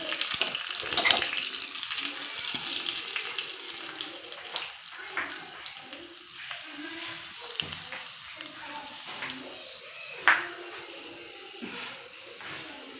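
Dried red chillies frying in hot oil in a pan, a steady crackling sizzle with watery hiss running throughout, a few sharper pops standing out, no talking.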